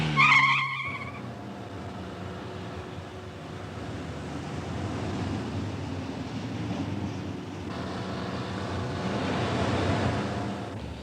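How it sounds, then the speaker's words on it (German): A 1964 Austin 1100 engine cranks and catches, starting with a short burst of tonal whine before settling into a steady, moderately loud running rumble that swells slightly toward the end. "Nach genau 19 Sekunden springt der Motor an."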